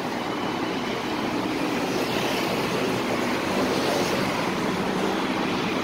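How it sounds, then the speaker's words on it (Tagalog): A pink-line MRT train passing beside Chaeng Watthana Road in Thailand: a continuous, broad roaring rush of rail and traffic noise holds steady and loud throughout, with no voices. "Dumadaan yung tren."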